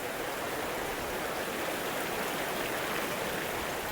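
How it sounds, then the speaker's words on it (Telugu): Broad steady rush of river water flowing near Srirangapatnam, a dense continuous wash heard close and alone with no pauses. "ఎంత వాటర్ ఫ్లో,"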